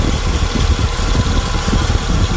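A Corvette C3 engine idles loud and close in a workshop, a steady, even rumble with no change in pitch or level throughout.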